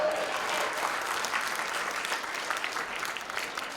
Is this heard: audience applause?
yes